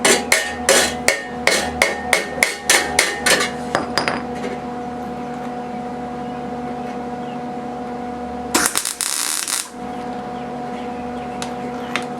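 A string of sharp, evenly spaced hammer taps rings as tacks are driven into a Jeep's rear corner metal panel, then settles into a humming background broken by a short burst of noise.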